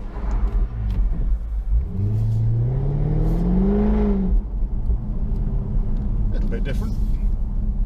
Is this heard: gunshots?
no